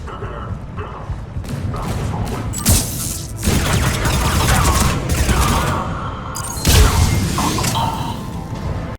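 Heavy booming cannon blasts in a video game and crashing impacts fire repeatedly in a dense, loud barrage, with a few sharper bursts standing out over continuous rumbling.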